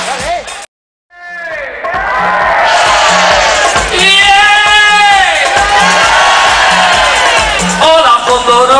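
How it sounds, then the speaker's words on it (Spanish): A crowd at an Orquesta Diamante live show cheers, whoops and applauds loudly after a short silence, with shouted voices and a steady rhythmic beat running beneath the noise. "Un fuerte aplauso para estas dos chicas tan guapas."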